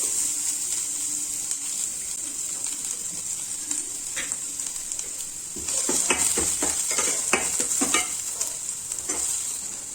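Chopped onion sizzles in hot tempering oil with mustard seeds, chana dal and curry leaves for paniyaram, a constant crackling hiss, then a spoon scrapes and stirs the pan in quick, irregular strokes.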